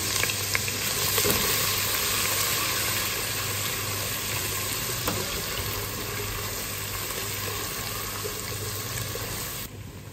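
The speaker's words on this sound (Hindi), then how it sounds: "उसी ऑयल में मैं अदरक लहसुन का पेस्ट शामिल करूंगी और इसको मैं अच्छी तरह भून लूंगी।" Ginger garlic paste fries in hot oil, making a loud, even sizzle that holds steady throughout, with a few faint clicks over a low background hum.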